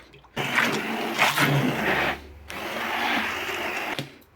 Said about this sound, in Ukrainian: Тепер беремо з вами погрузний блендер перебиваємо все у наш крем-суп.